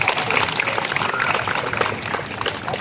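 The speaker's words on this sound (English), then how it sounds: "if you like what you see, you clap your hands, you show me your love." Crowd applause for a street performer in Piazza Navona, Rome, Italy: dense, steady clapping from many hands filling the whole span at a fairly loud level, with a few voices faintly mixed in.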